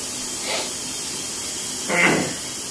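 Two short hissing bursts from a spray can, about a second and a half apart, sound close by against a quiet background during a homemade gas mask test.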